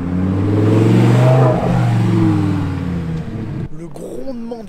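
A Lamborghini Huracán STO's V10 rumbles loud and close at low revs, a deep steady burble with a slight swell before it drops away, then fainter engine noise and a short voice near the end, on a winter street in Monaco.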